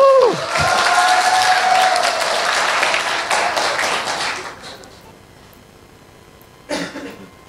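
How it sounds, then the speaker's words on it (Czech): Applause from a conference audience, loud and full for several seconds before thinning out and fading to near quiet, followed by a short burst of voice or noise near the end. "Potlesk pro Romana"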